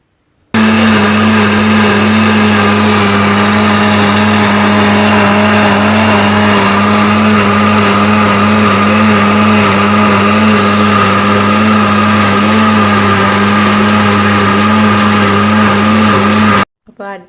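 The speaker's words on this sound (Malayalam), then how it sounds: "ഇനി നമുക്ക് ഇതിൻ്റെ അടപ്പടിച്ചിട്ട് മിക്സിയിൽ ഒന്ന് അടിച്ചെടുക്കണം." A mixer grinder runs continuously at a loud, steady whine for about sixteen seconds while blending a muskmelon shake with sugar, then cuts off abruptly.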